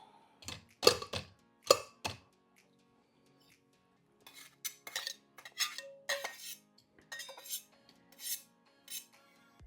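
Apples dropped into a container for making homemade puree, several sharp clattering knocks early on, then a quiet pause before a looser run of clinks, scrapes and rattles.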